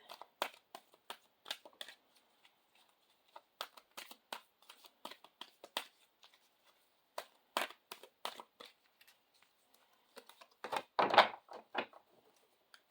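Oracle cards are shuffled repeatedly in quick bursts of papery flicks and soft riffling taps, close and quiet, with short pauses between rounds.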